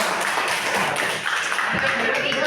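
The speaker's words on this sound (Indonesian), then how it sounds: "tepuk tangan buat kelompok 5" A classroom of students claps for a presenting group, a dense, steady round of applause that carries on for a couple of seconds amid room noise.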